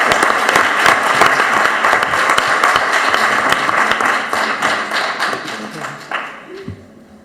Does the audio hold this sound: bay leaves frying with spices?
no